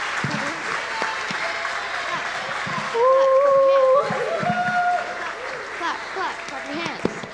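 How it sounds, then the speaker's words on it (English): An audience claps at a Christmas pageant, steady applause with cheering voices and a brief tonal note rising over it, talk continuing underneath. "Clap, clap, clap."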